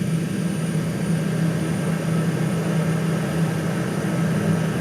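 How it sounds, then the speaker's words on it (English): Engine thrust reverser on a Boeing 737 MAX closing and stowing during ground cycling, heard as a steady, loud low mechanical hum and drone that holds constant throughout with no talking. "I'm watching my thrust reverser close."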